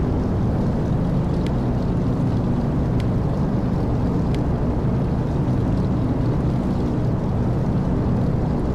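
Steady, loud drone of DC-3 piston engines held at run-up during a magneto check in a flight simulator, an unbroken low rumble with no talk.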